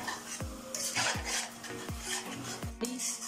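Mashed tomatoes for a Shinwari mutton karahi are stirred and fried in a pan: four evenly spaced utensil knocks against the metal ring out over a faint sizzle, with steady tones in the background.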